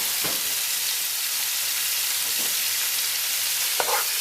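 Pork belly pieces fry and brown in a pan for a Nepalese Gurkha curry, rendered rind oil giving a steady, fairly loud sizzle throughout with a few sharp pops and clicks of pieces shifting, no voices.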